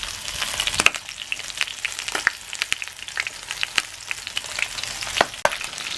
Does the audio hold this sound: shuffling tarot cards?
no